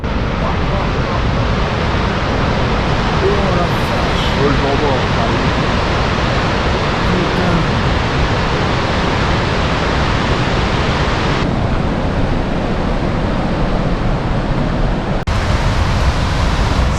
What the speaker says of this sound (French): c'est une magnifique cascade qui se présente devant nous